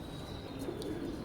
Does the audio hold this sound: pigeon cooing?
yes